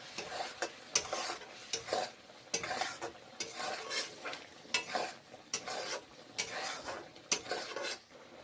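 Masala for an okra curry being stir-fried in a pan makes a rhythmic series of spatula scrapes and stirring strokes, each with a short burst of sizzle, close and fairly loud, with no talking.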